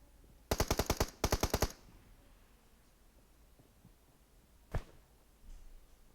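Gunfire in the mobile shooter PUBG Mobile: two quick bursts of rapid automatic shots, close and loud, then a single shot a few seconds later over quiet background.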